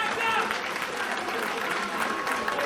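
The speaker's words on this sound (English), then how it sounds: "some applause" Crowd applause at a pro wrestling show, continuous clapping from a packed audience with a commentator talking over it.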